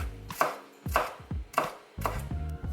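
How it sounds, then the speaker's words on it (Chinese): A knife chops scallions and ginger on a cutting board for mapo tofu, four separate bursts of several quick, close, loud strokes each, with no talk. "葱切成葱花，把姜切成姜末，"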